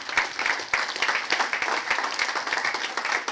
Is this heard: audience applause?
yes